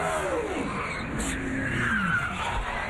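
A NASCAR race car at Homestead-Miami during 2004 Ford 400 qualifying loses grip and slams into the SAFER barrier, with engine roar, tire scrub and a sustained grinding rumble heard loud and close throughout.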